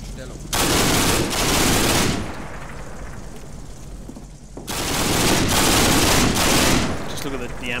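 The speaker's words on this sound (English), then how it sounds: "That's an earlier MG34 doing that damage." An MG34 machine gun in the Combat Mission war game fires two long, loud bursts of rapid automatic shots separated by a quieter stretch of distant battle noise, with some talk in the background.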